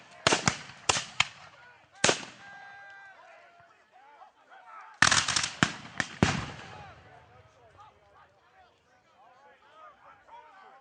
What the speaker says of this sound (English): Notice the volley fire as the units try to lay down fire at once, sending a massive lead downrange against their opponents.